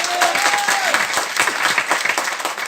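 Loud, sustained audience applause at an RCM company gathering honoring founder Trilok Chand Chhabra, a dense crowd of clapping hands close and continuous throughout.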